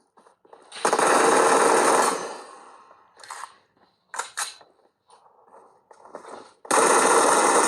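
A gun is fired into the air during a chase game between cousins, with loud, close bursts of rapid repeated shots broken by short pauses and a final sustained burst.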